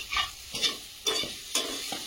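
Onion and potatoes fry in a pan, with four short bursts of stirring and scraping rising over a soft sizzle at a slow, regular pace, close by and with no voices.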